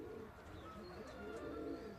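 English tippler pigeons coo softly through a continuous, fairly faint outdoor background at a morning training session.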